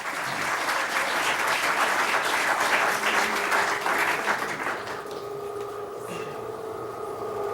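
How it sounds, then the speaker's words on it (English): Audience applause for the candidates at a League of Women Voters forum, a dense, loud round of clapping that holds for about five seconds before dying away into quiet room noise. "Let's go ahead and give them all a round of applause."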